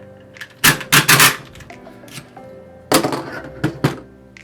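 Metallic clacks and thunks as rifle rounds are pushed from a stripper clip into a 30-round M1 carbine magazine, two loud clusters of sharp snaps separated by quieter handling clicks, close up.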